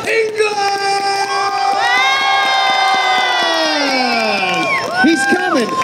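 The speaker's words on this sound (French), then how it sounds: "start your round of applause" A large convention crowd cheers and shouts as actor Robert Englund is welcomed to the stage, loud sustained whoops and screams with rhythmic clapping underneath, swelling and then breaking into scattered yells.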